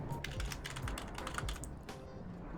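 Rapid typing on a computer keyboard during a Factorio game session, a quiet, steady run of key clicks with no talking.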